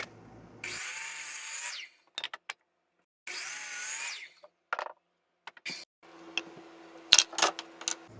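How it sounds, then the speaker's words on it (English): A power saw cuts short wooden feet to length in a woodworking shop, two distinct whining passes of about a second each, separated by clicks and the clatter of handled wood. "Next, we'll go ahead and cut our feet. I'm going to cut those to 5 inches each."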